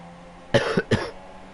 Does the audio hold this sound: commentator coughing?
yes